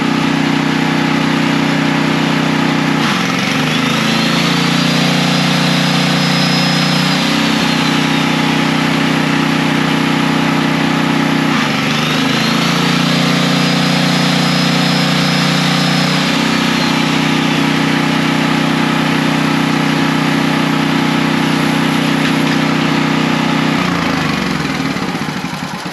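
Ryobi 4500 portable generator engine running steadily under a saw load, a loud continuous drone with a rising whine that swells twice as the load is applied and released.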